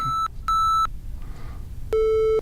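Steady electronic tones sound in bursts, two short higher ones then a lower sustained one, each a 440 Hz fundamental rich in harmonics, with quiet gaps between.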